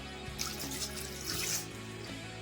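Water is poured while curd-based masala buttermilk is being made, heard as a faint, steady splashing stream for a couple of seconds with no talk over it.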